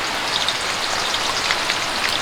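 Steady, dense rain pattering on a surface, loud and continuous with no voices.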